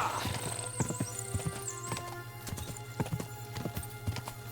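Horse hooves clip-clopping at a quick steady gait in the video game Kingdom Come Deliverance 2, with a short whinny and faint background ambience.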